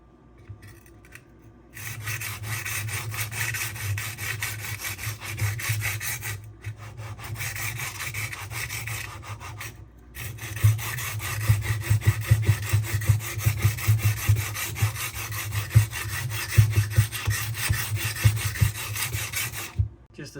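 Knife blade drawn repeatedly across a Sharpworx utility sharpener, a close, steady rasping scrape in long even strokes with brief pauses between passes.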